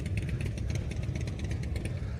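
Motorcycle engines in a Veterans Day parade rumble and clatter nearby in a steady, uneven idle, with a busy mix of mechanical noise and no talking.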